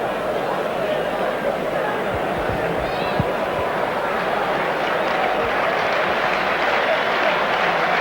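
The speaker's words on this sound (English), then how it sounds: "Hanley getting generous applause for scoring the try from the crowd" Spectators at a 1988 Wigan versus Leeds rugby league match applaud a try, a steady wash of clapping and crowd noise under a commentator's voice.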